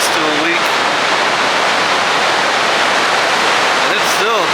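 Water rushes through the open gates of Table Rock Lake Dam, a loud, constant roar filling the whole span, with brief voices barely audible over it.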